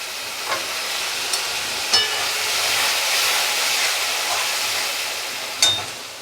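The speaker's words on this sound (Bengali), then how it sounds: "এবার মশলাটাকে ভাজা করব, এই ভাজার সঙ্গে আলুটা সেদ্ধ হয়ে যাবে।" Spice masala fries in a pan with potatoes for a mushroom curry, making a steady, close sizzling hiss broken by a few sharp clicks and pops of stirring.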